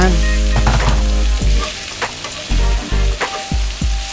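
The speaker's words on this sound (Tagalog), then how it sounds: "So, ibabalik na natin yung ating piniritong tokwa." Fried tofu being tossed back into a hot pan for tokwa sisig, a loud close sizzle broken by repeated clanks and scrapes of a spatula stirring.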